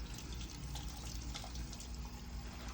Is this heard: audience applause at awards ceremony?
no